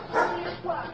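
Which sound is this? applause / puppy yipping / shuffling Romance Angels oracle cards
puppy yipping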